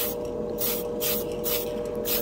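A Tamiya clear spray can hisses out paint in steady bursts, three or four pulses of broadband spray close by with short pauses between, no voices present.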